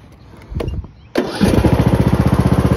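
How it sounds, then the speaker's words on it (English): A John Deere E100 riding lawn mower cranks briefly, then catches and fires up, settling into a loud, close, steadily chugging engine idle; no talking. "I'll hear the start up and turn the blade on"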